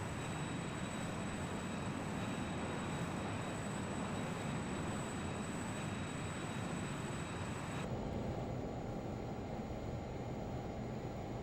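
A Learjet 35A jet cruises in Microsoft Flight Simulator 2020, a steady dense roar with a faint high whine that continues unchanged, the upper tone dropping away partway through.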